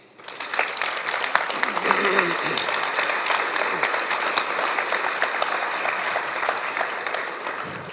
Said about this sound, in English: As solemn as that was, I still think it commands a applause.